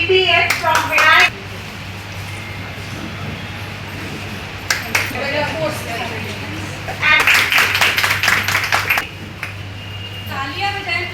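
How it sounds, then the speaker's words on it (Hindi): At an award ceremony honouring students at an institute, an indoor audience breaks into several bursts of loud clapping, separated by quieter stretches with a low electrical hum and some voice in the hall. "तालियां बजाएं प्लीज। तालियां सबकी होनी चाहिए।"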